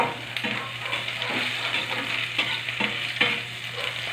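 Ginger frying in a pan, a continuous sizzle with scraping stirring strokes recurring every second or so, close and fairly loud with no talking.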